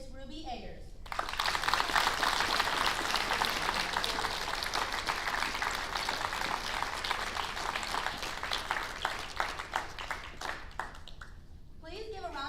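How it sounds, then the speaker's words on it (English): A school sports awards assembly crowd applauds its newly crowned spring coronation king and queen, a steady wash of many hands clapping for about ten seconds before fading, heard at moderate distance. "Please give a round of applause for our Concrete Hunter Spring Coronation King and Queen."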